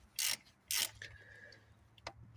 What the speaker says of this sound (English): Now we've got this sensor in here on the intake manifold. We just need to loosen that up. Take the bolt out.